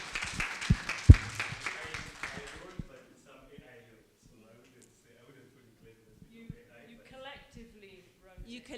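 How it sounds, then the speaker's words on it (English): Brief applause from a small group at a summit skill session, a burst of clapping for the first few seconds that fades out, followed by scattered quiet talking. "I think a big round of applause"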